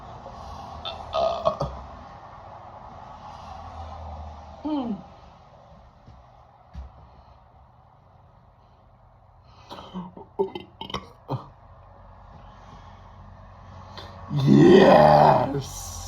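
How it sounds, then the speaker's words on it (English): Loud burps after chugging a 2-liter bottle of Diet Coke, with a short rumbling belch early on, scattered grunts, and a long, loud, strained burp near the end, heard close up between quieter stretches. "Man, that's a loud burp today."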